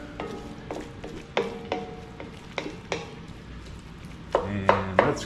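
Green pepper and other vegetables being chopped with a knife, a series of sharp, regularly spaced strikes about a second apart, close by, over a low cooking hiss, ending with a few quicker heavier knocks.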